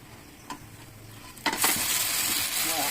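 Pumpkin dumplings fry in a pan with a steady sizzle, broken by a couple of soft scraping knocks as they are turned over, after which the frying crackle swells louder.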